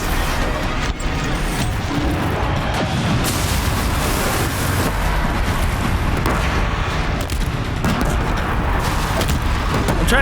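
Constant booming explosions and blasts from a big boss fight in the Horizon Zero Dawn video game, loud, dense and continuous with rumbling low end.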